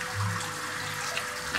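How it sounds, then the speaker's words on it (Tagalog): Weak, steady trickle of water running from a tap, likely at a catfish hatchery tank, a continuous soft rush with no talking. "Dapat talaga mahina na. Mahina yung tubig."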